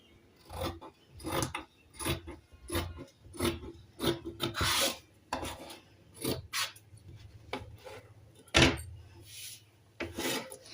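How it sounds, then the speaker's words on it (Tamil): Scissors snip through blouse fabric while a star-shaped neck piece is cut out, giving a series of short, close rasping cuts in irregular bursts with brief pauses between them and no talk. "இப்போ பாருங்கள் நம்ம வந்து கழுத்து பீஸுமே கட் பண்ணி முடிச்சிட்டோம்"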